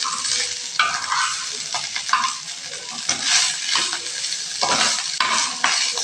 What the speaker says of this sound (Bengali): এখন আমরা একটু ভালোভাবে নাড়িয়ে 4-5 মিনিট অনবরত নাড়তে থাকবো, যেন সবগুলো ভালো করে মিশে যায়।